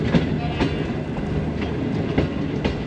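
Awam Express train cars rolling into a station, with a steady rumble and rhythmic clickety-clack wheel beats over the rail joints, close and loud with no speech.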